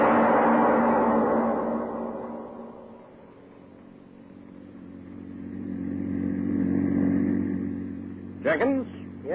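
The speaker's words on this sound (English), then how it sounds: "The publisher and his chauffeur are driving along a country road." A car hums along a country road as a radio drama effect, its engine a steady mid-range drone that fades and swells again, with a brief squeal near the end.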